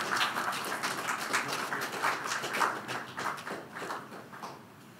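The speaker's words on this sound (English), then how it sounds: "I was hoping I could get applause here" An audience applauds at a Ghana National Communications Authority event on a Digital Audio Broadcasting trial, a steady crowd of clapping at moderate distance that swells and then gradually tapers off.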